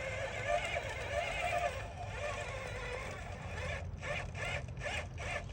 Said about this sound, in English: You can hear Velma's head bobbling in there. Clickety, clickety, clickety.